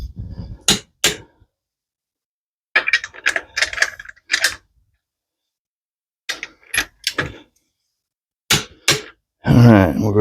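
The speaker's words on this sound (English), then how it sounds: "we'll tighten this in a star pattern, torquing to 80 foot-pounds first" Torque wrench clicking as lug nuts on a C5 Corvette wheel are tightened in a star pattern, sharp isolated clicks and ratchet bursts in short clusters with silent gaps between, close and fairly loud.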